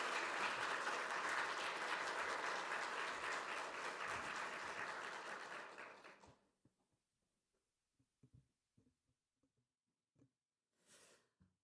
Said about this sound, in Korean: 우리 다시 한번 우리 목사님을 우리 사랑의 박수로